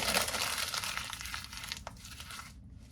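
Packaging being ripped out and crumpled while a new bookshelf is put together, a close burst of crinkling and tearing that thins out over a few seconds, with no talking.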